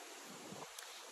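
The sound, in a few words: strong wind blowing outdoors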